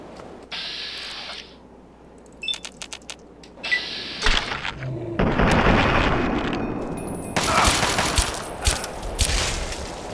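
Pistol gunfire in Fallout 3, a series of sharp shots mixed with other game combat noise and impacts, fairly loud and close over a steady background hum.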